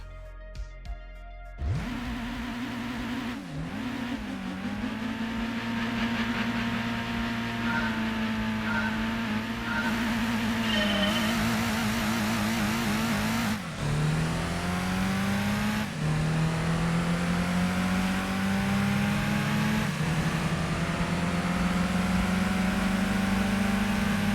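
Engines of luxury four-door sedans racing in the PlayStation game Gran Turismo 2, a steady, loud synthetic motor drone that rises in pitch through gear changes and holds across the whole stretch with no talking.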